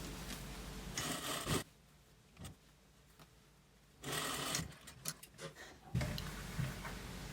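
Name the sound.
sewing machine sewing across a seam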